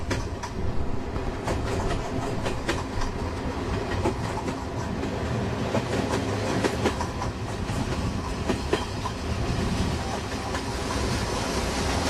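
A steam train hauling carriages on a lakeside line in the Balkans, heard as a steady, loud rumble with rhythmic clickety-clack of wheels over rail joints running throughout, with no talk.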